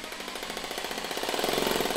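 A Japanese 100V hammer drill in strong hammer mode produces a rapid, steady rattling hammer beat with a whirring motor, close up, that grows slightly louder and faster toward the end.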